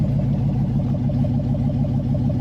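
Jeep Cherokee fitted with a swapped LS V8 running steadily on its first start, a loud close-up engine drone with a regular low pulsing rhythm and no talk.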